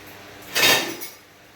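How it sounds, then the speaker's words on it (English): Garlic cloves rolled inside a container, giving a single brief rattling clatter of cloves against the walls, close and fairly loud, then quickly fading. "I'm just basically just going to roll the garlic in it"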